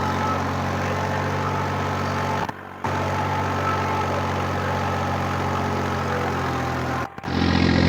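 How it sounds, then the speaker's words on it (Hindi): A New Holland 3630 tractor drives an 8-foot Shaktiman rotavator, its engine a loud, steady low rumble that drops out in two brief gaps. "देखो न्यू हॉलैंड 3630 रॉकेट के जोर, 8 फीट का रोटावेटर है"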